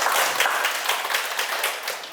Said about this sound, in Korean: 한 번 더 박수 칠까요?